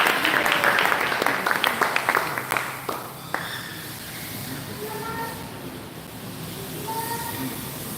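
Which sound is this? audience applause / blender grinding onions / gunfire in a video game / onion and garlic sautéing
audience applause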